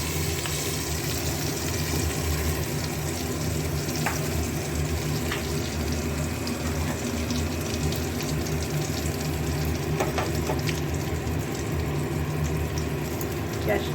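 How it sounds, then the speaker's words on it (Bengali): Bay leaves, green chillies and nigella seeds sizzle steadily in hot mustard oil in a pan, a constant frying hiss with occasional small crackles throughout. "একটু ভাজা ভাজা হোক তেজপাতা কাঁচা লঙ্কা সব কিছু"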